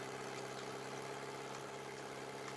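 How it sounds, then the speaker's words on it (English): The International 340 tractor engine in Farming Simulator 22 gives a brief, faint, steady mechanical idle drone with a constant hum and no variation. "I know this tractor's a little bit loud"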